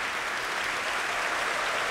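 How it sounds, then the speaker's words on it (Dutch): A concert audience at a Nederlandse Bachvereniging performance of Graun, Telemann and Bach at the Festival Oude Muziek Utrecht applauds the soloists on stage, a steady, dense wash of many hands clapping with no break. "het applaus dat u nu hoort is voor de aanwezigen hier op het podium, de solisten"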